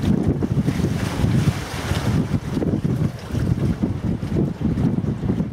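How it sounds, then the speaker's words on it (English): Strong wind roars in gusts of 30 to 40 mph against the microphone on Lake Superior, with water sloshing and waves slapping close by a paddled boat; no voices. "Back against 30 mile an hour headwinds with 40 mile an hour gusts."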